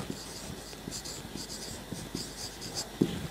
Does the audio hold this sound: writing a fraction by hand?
yes